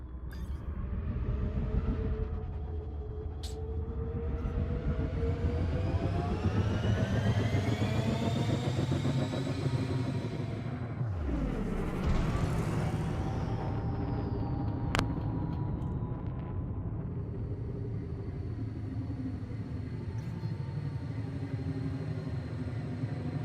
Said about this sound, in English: Engines engaged.